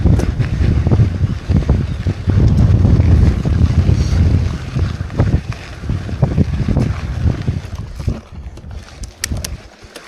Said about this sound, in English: Quite windy in Tokai this morning.